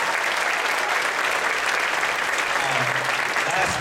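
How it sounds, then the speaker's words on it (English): An audience at a school band concert breaks into loud, sustained applause, a dense wash of clapping that fills the room evenly from start to finish. "Let's give them a big round of applause."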